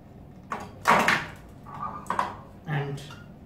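The door of a Garner PD-5 hard drive destroyer is opened in a few clunking, scraping movements, close and fairly loud with short pauses between.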